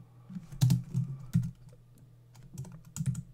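Brisk bursts of keystrokes on a computer keyboard come close and clear, with short pauses between runs of typing.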